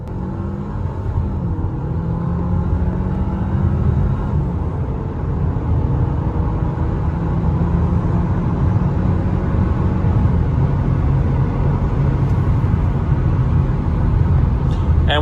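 A new Ford car in standard drive mode accelerating hard, heard from inside as a loud continuous engine and road rumble that swells and builds steadily over several seconds.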